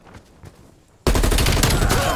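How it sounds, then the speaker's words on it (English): Gunfire in the video game Black Ops Cold War: after a quieter first second with soft game sounds, a sudden loud burst of shooting erupts and keeps going as a dense, continuous barrage to the end. "Yeah, I see where the sniper rifle's coming from now."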